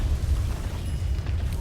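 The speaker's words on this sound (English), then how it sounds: "Chuen, level 25 with Diabolic Edict Explosions, cleaning up these towers very quickly." Diabolic Edict explosions in Dota 2 as a level 25 hero tears down towers: a dense, continuous low rumble of overlapping blasts with little break, loud and without speech.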